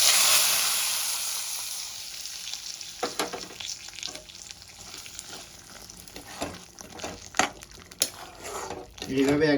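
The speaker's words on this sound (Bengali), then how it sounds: "রসুনটা আমার লাল লাল হয়ে গেছে। এবার আমি এই মেথির উপরে ঢেলে দেব।" Red-fried garlic tempering poured over fenugreek for a garlic-methi dish: a loud burst of sizzling that fades into a crackling fry, with scattered metallic clinks of a spoon and pan and a voice talking through it.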